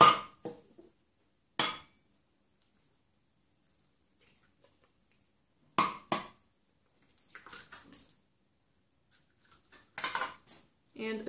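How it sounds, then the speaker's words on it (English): Eggs cracked into creamed sugar and butter in a mixing bowl for Christmas cookies: a few separate sharp taps and clinks with long quiet gaps, then a cluster of scraping, clattering spoon-against-bowl sounds, close and dry. "add 2 eggs."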